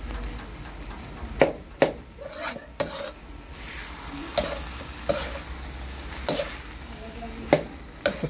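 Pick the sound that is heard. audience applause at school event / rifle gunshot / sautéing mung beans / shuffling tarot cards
sautéing mung beans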